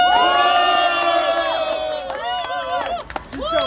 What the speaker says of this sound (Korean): 다시 한번 박수와 함성